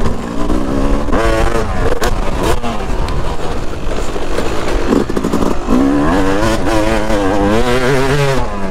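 A Super 300 motorcycle engine revs hard and close, its pitch climbing and dropping repeatedly as the throttle is worked.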